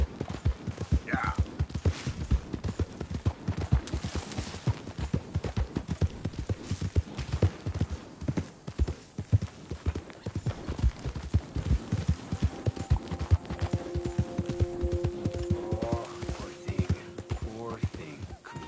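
Horse hooves clip-clopping steadily in Red Dead Redemption 2, a fast, even run of close hoofbeats that lasts throughout, with a held tone near the end.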